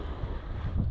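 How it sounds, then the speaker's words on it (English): Wind blows across a lake around a bass-fishing boat, a steady roaring gust buffeting the microphone, loud and continuous with no talk. "this wind all day"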